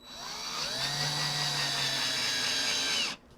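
A handheld power drill runs steadily for about three seconds, its motor whine rising as it spins up, holding a strong tone with a slight pitch sag under load, then stopping abruptly.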